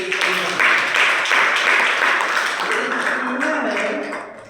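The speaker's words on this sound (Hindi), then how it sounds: "एक जोरदार ताली है" Loud, sustained applause from an audience at a DXN marketing meeting in a school hall in Boisar, India, a dense wash of clapping that holds steady for several seconds, then begins to fade.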